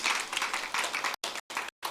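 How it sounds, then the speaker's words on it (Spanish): A church congregation claps loudly together in praise, a dense burst of applause with brief silent cuts near the end. "Dale un aplauso fuerte al Señor."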